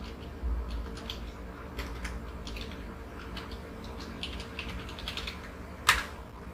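Computer keyboard being typed on in short bursts of soft, close key clicks, quiet and alone, with one sharper louder click near the end.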